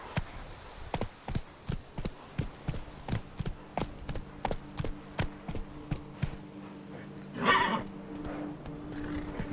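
Roach the horse gallops in The Witcher 3, with a quick, even clip-clop of hooves at close range, then a brief whinny near the end.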